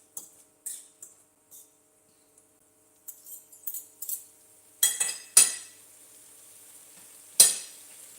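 Red onion softening in a hot pan for chicken in spruce sauce, with scattered bursts of crackle and stirring scrapes, several louder sizzling flares near the end, and quiet gaps between them.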